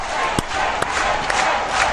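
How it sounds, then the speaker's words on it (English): Crowd cheering and shouting at the individual final of the World Jigsaw Puzzle Championship in Valladolid, a steady indoor roar with a few sharp whoops standing out. "You can hear the cheering."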